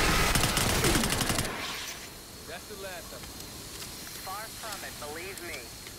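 Bursts of dense automatic gunfire from the Call of Duty Black Ops 6 video game crackle loud for about a second and a half, then fade into quieter game sounds with chirping, warbling effects.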